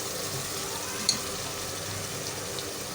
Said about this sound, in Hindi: अब अच्छे से इसकी भुनाई करेंगे।